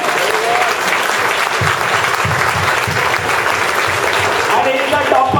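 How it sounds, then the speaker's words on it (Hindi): Loud, continuous applause fills a hall at a welfare association prize distribution ceremony honoring top SSC and HSC students, the clapping dense and sustained, with a voice faintly audible beneath it. "इनके लिए जोरदार तालियां"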